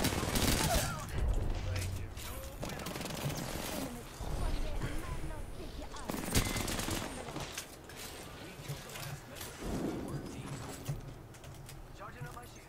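Rapid bursts of gunfire in the video game Apex Legends crackle through most of the stretch, loud and dense with sharper shots standing out, while players talk over the action.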